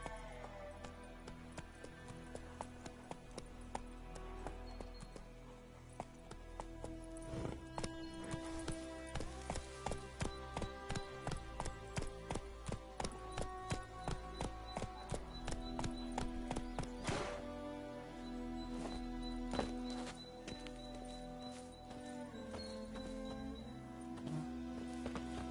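Horse hooves clip-clop steadily in The Witcher video game, a regular trotting rhythm over game music, fairly quiet and continuous.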